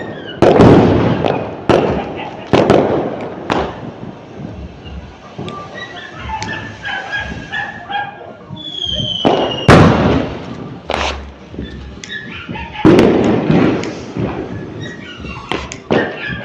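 Diwali fireworks outdoors in windy conditions: loud sharp bangs and crackles burst at irregular intervals, near and echoing, with brief whistling fizz between blasts and occasional voices.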